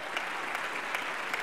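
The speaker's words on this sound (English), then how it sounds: "Somebody give a little clap offering of praise to our God today." Congregation applauding in a church service, a steady wash of many hands clapping at close range with no voices over it.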